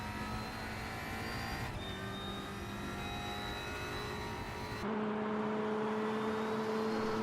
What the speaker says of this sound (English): you can just hear the grunt of the Racing Team Italia car at the moment. It sounds absolutely tremendous